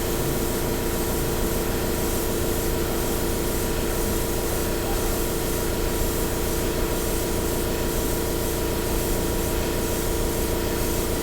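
An airbrush sprays charcoal-toned paint in a continuous, even hiss of compressed air that holds steady for several seconds without pause, close and fairly loud.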